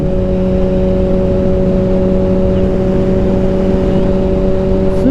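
A Kawasaki ZX6R motorcycle being ridden, its engine holding a steady droning hum with a constant pitch and rushing wind noise, loud and close throughout.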